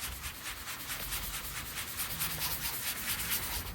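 Chrome polish is rubbed by hand in circles over a surface, a steady soft scrubbing with a faint regular back-and-forth rhythm, close and quiet, with no talk.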